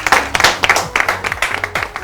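Studio audience at a talent show grand finale claps for four contestants, a loud close burst of clapping with distinct individual claps over a low music bed.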